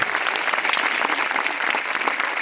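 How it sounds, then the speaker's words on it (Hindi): Steady, close applause fills the hall at a thalassemia awareness carnival as the audience claps continuously, a sustained even wash of many hands with no break. "अगर आप खड़े होकर तालियां बजाएं"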